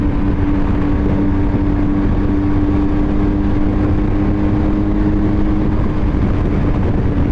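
A BMW motorcycle engine pulls hard under acceleration, a loud continuous roar with a steady tonal hum running through it and no voices over it.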